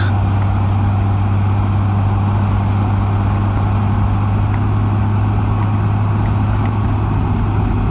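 A motorcycle cruises in highway gear on an open rural road, its engine a steady, unbroken low drone blended with continuous wind rush, with no talking.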